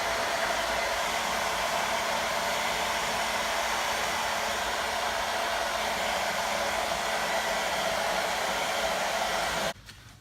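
A heat gun blows a loud, steady roar while it warms the adhesive behind an emblem on a Scat Pack car in a garage. It runs close and unbroken, then cuts off near the end, with no talk.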